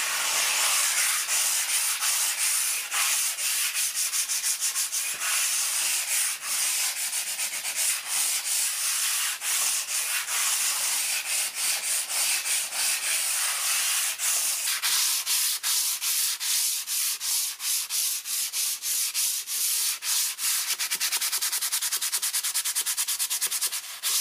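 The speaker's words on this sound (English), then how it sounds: "I've just finished all the sanding" Continuous close hand sanding of filler on a wall, a steady gritty rasp with rapid back-and-forth strokes that quicken toward the end, no pauses.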